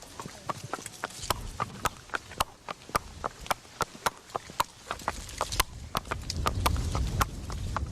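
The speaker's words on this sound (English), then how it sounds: "This is a barefoot horse in Kentucky. It's been wet here for 6 weeks. Listen to the sound of those feet." A barefoot horse walks on wet ground in Kentucky, its hooves striking in a steady, close clip-clop rhythm of sharp distinct knocks over low background noise.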